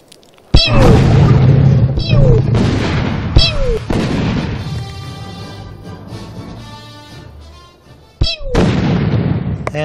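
Rockets launching from a creature in the ARK dino game, loud sharp blasts each followed by a descending whistle and roaring rush, repeated several times at intervals with a trailing rumble between.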